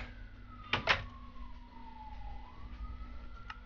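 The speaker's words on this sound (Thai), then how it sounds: "ได้ยินเสียงรถหวอไหม" An emergency vehicle siren wails faintly in the distance, its tone sliding slowly down and back up, with a couple of sharp knocks up close at the start.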